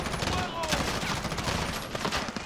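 Continuous automatic gunfire from Call of Duty Modern Warfare, a rapid crackling volley of shots that stays loud and busy from start to finish.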